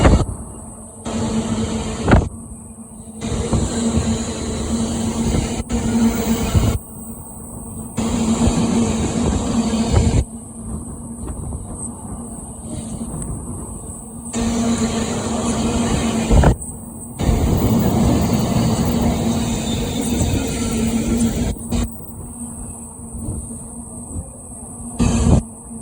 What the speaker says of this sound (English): the next train to pass by is a Freightliner Class 66, our first freight train of the day